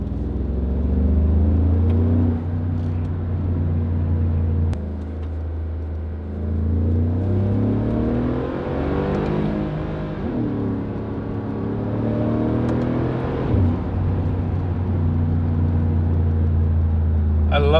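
A 2017 Mercedes-Benz G63 AMG Edition 463 engine revs up and falls back with a series of downshifts, producing a deep, close rumble with rising and dropping engine tones.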